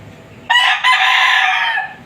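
A red gamecock rooster crows loudly and close by, one long strained call after a brief pause, against a quiet background.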